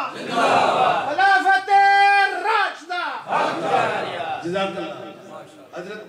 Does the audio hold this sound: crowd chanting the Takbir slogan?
yes